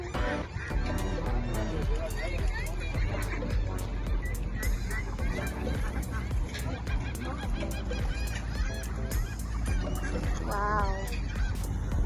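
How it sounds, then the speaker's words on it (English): A flock of waterfowl on a riverside in a North Carolina park honks and calls repeatedly, close and busy, with people talking nearby. "we saw a flock of ducks on the riverside"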